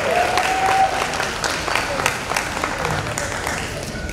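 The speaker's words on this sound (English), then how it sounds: "Miss Arlethea Brown another round of applause." A crowd at a community meeting about school construction claps steadily, fading gradually, with a faint voice and a brief whistle early on.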